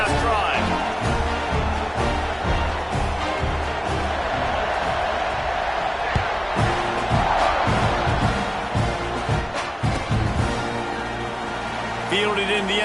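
Football stadium crowd at a Tennessee Vols vs Mississippi State game roaring and cheering continuously during a kickoff, a dense, loud wall of voices with scattered whoops and shouts, steady throughout.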